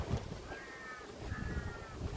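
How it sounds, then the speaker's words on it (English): Crows caw twice in the bush, two harsh calls standing out over steady wind rumble and microphone buffeting. "Crows crowing."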